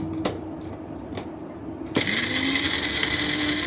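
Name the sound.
blender chopping seasoning for chicken meatballs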